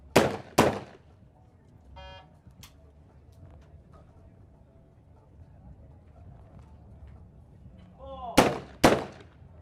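Pairs of shotgun blasts from a trap shooting medal final at a 2016 ISSF World Cup Final in Rome, two sharp loud reports at the start and two more near the end, with a quiet outdoor lull between them.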